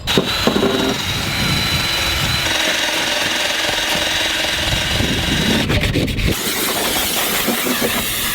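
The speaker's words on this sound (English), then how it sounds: "So drill, about dead. Drill, wire brush, let's get in here." A power drill whines steadily with a harsh scraping buzz from a wire brush working on a 2005 Cateye truck frame, running continuously before the pitch shifts near the end.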